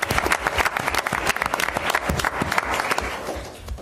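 Audience applauds at a school board awards ceremony honoring student theater work, a dense, steady wash of many hands clapping that continues throughout and tapers slightly at the end.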